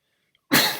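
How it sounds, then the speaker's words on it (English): A single sharp, close cough bursts out abruptly after a brief near-silence, from a commentator covering a Lichess Titled Arena online chess blitz game. "my cough has started again"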